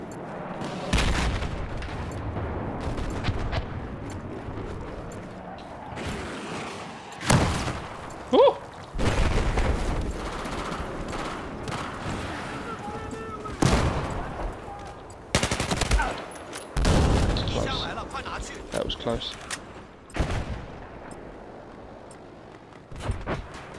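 Gunfire in Battlefield 4 during a Conquest match: bursts of rapid automatic fire and heavy booming shots come in irregular clusters, with quieter stretches between and a voice speaking briefly among them.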